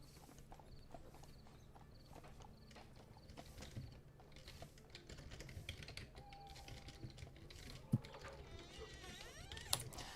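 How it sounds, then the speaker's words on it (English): Keyboard typing during an online tabletop role-playing game stream, heard as quiet, irregular clicks at close range over a low hum of background noise, with no talking. "Typing in the stuff for what the champions have."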